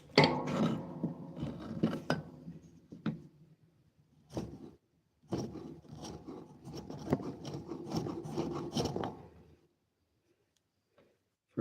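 A wooden mallet being sharpened by filing: close rasping and rubbing strokes come in irregular bursts separated by brief pauses, then fade to near silence toward the end.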